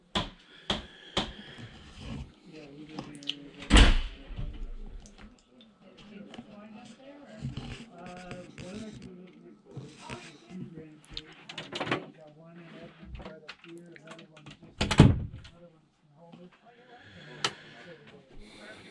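Several sharp knocks and thuds of drawers and cabinet doors opening and shutting aboard a boat's stateroom, spaced irregularly, with a person talking quietly between them.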